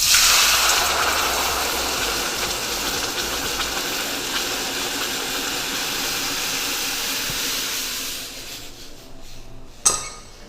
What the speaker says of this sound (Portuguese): agora eu pego água, vou aqui nessa panela aí